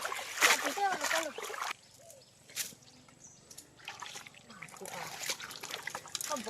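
Water splashes and trickles as a fishing net is rinsed in a river full of shrimp, bursts of splashing coming in and out beneath close voices talking.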